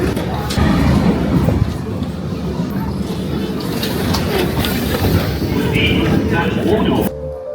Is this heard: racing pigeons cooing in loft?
no